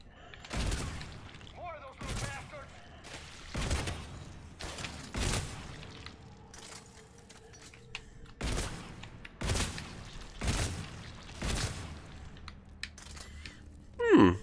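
Shotgun blasts fire repeatedly in Mass Effect 2, loud single booms spaced a second or two apart across the stretch, with faint game sounds between shots.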